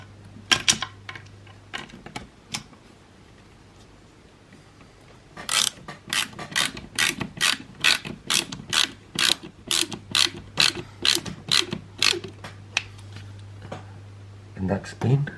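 Small screw driven by hand into a Tamiya TT-02 radio-control model car kit, a rapid run of close, even ratcheting clicks through the second half after a few scattered clicks.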